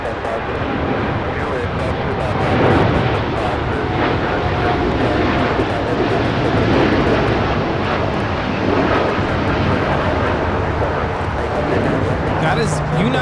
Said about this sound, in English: That is United Airlines 1855 taking off to Newark on the 787-9 Dreamliner.